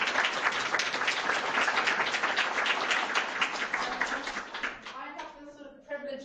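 Lecture forum audience breaks into applause, a dense steady round of clapping that carries on for several seconds before thinning, with voices starting to talk as it dies away.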